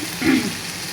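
Turmeric and dried chili powder fry in a hot pan for a Bengali dried-fish curry, a soft steady sizzle lasting about a second with a slightly louder swell early on, heard alone without talk.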